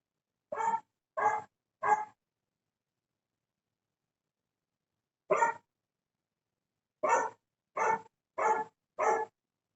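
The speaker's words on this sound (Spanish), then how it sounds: "son los perritos que están alocados" Dogs bark sharply and loudly in separate bursts: three quick barks, a pause, a single bark, then four more in a row, with silence between them.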